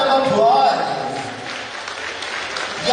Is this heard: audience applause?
yes